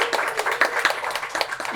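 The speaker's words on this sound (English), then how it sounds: "So please give her a big round of applause" Audience applause at a Paris High School Student of the Month presentation, a short burst of moderate clapping from a modest crowd, fairly close and steady without talk.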